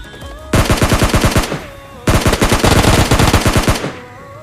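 Automatic gunfire in the mobile game PUBG Mobile Lite, two loud, close bursts of rapid shots, each lasting over a second, separated by a short pause.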